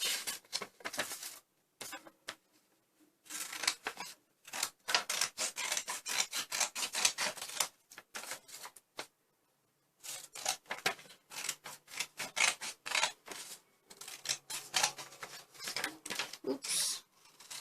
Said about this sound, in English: fold it into 4 equal parts again, and just simply cut it out.